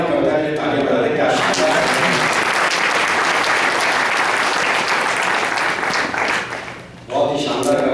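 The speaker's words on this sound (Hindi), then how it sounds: "पहले तो ऋतु की पिता वाली कविता के लिए तालियां बजा दें।" A crowd at a Hindi comic poetry gathering applauds a poem about a father: a dense, loud wash of clapping swells quickly and holds for several seconds, then thins briefly before a voice resumes, with talk audible at the very start.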